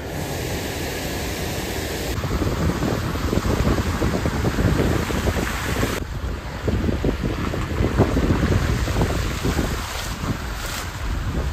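A roadside waterfall in the Himachal hills near Mandi, pouring down in a loud, steady, close rushing roar with no voices over it.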